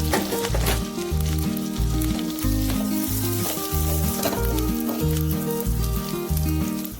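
Finely chopped garlic sizzles in butter in a pan for pizza sauce, a loud, continuous crackling hiss that runs under prominent background music throughout.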